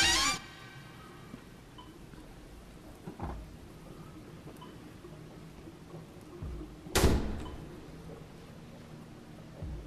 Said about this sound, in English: The door shut?